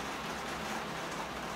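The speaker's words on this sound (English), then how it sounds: "listening to the rain in the greenhouse here" Rain falls on a greenhouse roof in a steady even hiss, a soft continuous patter with no distinct drops and no voices.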